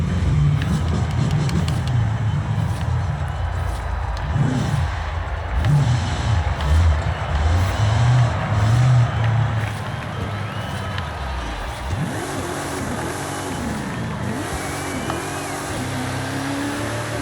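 A 1964 Chevrolet Impala Super Sport with a 409 engine and an AWD drift tune in a racing video game, giving a loud continuous engine roar that rises and falls with revving, then shifts to rising and falling tones in the final seconds.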